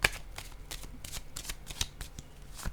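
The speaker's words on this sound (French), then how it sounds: "Je vais déposer une autre carte ici." Playing cards are shuffled, handled and set down in a quiet room, giving a run of soft, close riffling slaps and flicks with brief louder snaps, and no talking.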